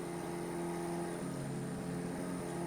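A Suzuki truck engine in the Mudrunner off-road driving game drones and revs with a steady, slightly strained hum that shifts pitch midway, continuous and moderately quiet.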